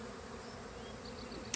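A swarm of honey bees holding several mated queens hums in a faint, steady, continuous drone, with a tiny click near the end.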